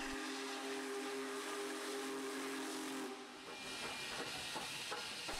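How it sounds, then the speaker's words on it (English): Union Pacific Big Boy 4884, a 1.2-million-pound steam locomotive, with a steady loud hiss of steam and a sustained whistle tone that fades, followed by rumbling and mechanical knocks. "Its whistle pierces the air, the ground trembles beneath its steel wheels"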